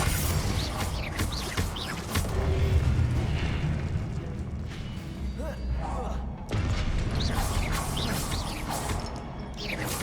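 Confringo fire spell blasts in Hogwarts Legacy, repeated booming fiery explosions over ongoing battle noise, with a voice calling out spells.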